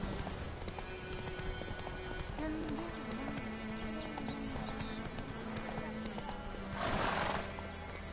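A horse gallops in the video game The Witcher 3, with steady rhythmic hoofbeats throughout, a whinny in the middle and a louder snort or gust near the end. Game music plays underneath.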